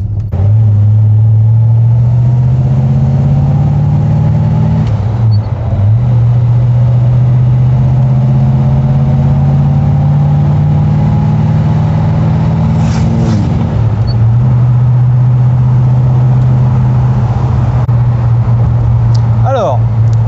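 An AMC Javelin AMX V8 muscle car engine rumbles steadily, its low tone rising as it pulls away, dipping briefly and then climbing again as it accelerates. The engine is loud and close.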